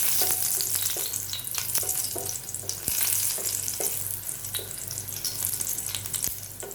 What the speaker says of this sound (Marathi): तेलामध्ये मी आपण जी लसूण घेतली होती ठेचून ती घालून घेते.